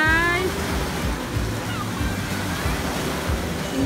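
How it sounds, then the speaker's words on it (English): Large artificial waves roll and wash through a wave pool at an outdoor resort, a steady broad surf roar with sloshing water, heard close and continuous with faint crowd noise underneath. "Tingnan nyo, guys, ang laki ng alon."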